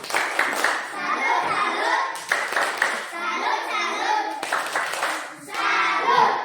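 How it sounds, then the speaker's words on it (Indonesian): A class of children in an Indonesian classroom claps in rhythmic bursts for two students from group 1, a loud, close patter of small hands in three runs with young voices mixed in. "kita beri tepuk tangan salut untuk mereka berdua dari kelompok 1"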